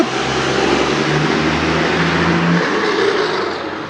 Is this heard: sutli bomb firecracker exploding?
no